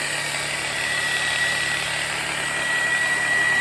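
A power buffer runs a pad over an oxidized plastic headlight with a steady, even whirring drone that holds unchanged throughout, close and fairly loud, with no talk.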